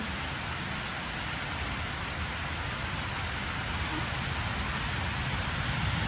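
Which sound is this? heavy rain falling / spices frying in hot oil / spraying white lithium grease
heavy rain falling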